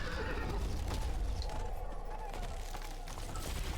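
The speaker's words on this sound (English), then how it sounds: "That's a horsey" A horse neighs in the video game Wuchang: Fallen Feathers, a whinny over a dense, loud game soundscape with a rumbling low end, while someone talks over it.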